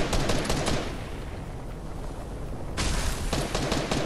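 Sustained heavy gunfire in the video game Fortnite, a dense, loud rattle of rapid shots that thins briefly in the middle before resuming at full intensity.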